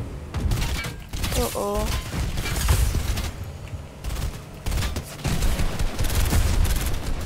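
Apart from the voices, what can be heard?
gunboat firing at the player in the video game Fortnite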